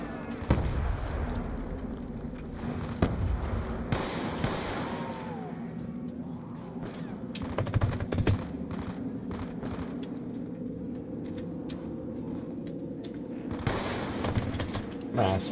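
Call of Duty Black Ops 2 Zombies gameplay carries grenade blasts and booms mixed with steady gunfire, several loud bursts scattered across the span, with voices talking underneath.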